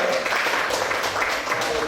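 Brief burst of classroom applause from students during a crossword quiz lesson, a dense patter of clapping filling the room for about two seconds with chatter mixed in.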